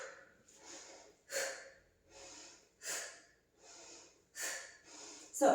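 Heavy, rhythmic breathing during an ab crunch workout, with sharp forceful exhales at regular intervals, close and alone with no talking.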